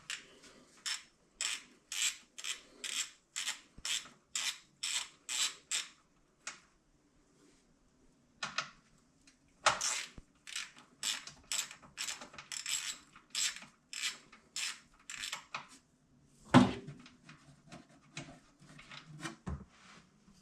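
A ratchet wrench with a 17 mm socket works the oil drain plug underneath a 2023 Kawasaki KRX, giving quiet, rhythmic clicking bursts in steady repeated strokes, with a short pause and a couple of soft knocks partway through.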